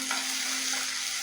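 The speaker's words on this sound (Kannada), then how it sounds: "ಇದು ಸ್ವಲ್ಪ ಫ್ರೈ ಮಾಡ್ಕೊ." Chana dal fries in a pan of hot oil while cabbage palya is being cooked, giving a brief, steady, close sizzle with no voices.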